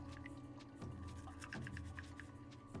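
Denture brush scrubbing back and forth across dentures, soft wet bristle strokes with watery, squishy texture in a quiet room, faint and fairly close, a few distinct brushing passes repeated over a few seconds.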